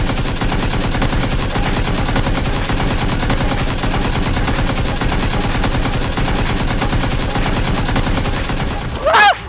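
Rapid, loud, continuous bursts of toy-gun fire in a playful school bandit skit, an unbroken machine-gun-like rattle that ends with a short sharp sweep at the close.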